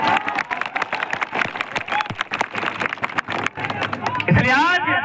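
A large crowd at a political rally in Jharkhand, gathered in 45-degree heat, keeps up steady loud applause and cheering with babble throughout, with a sharper swell near the end.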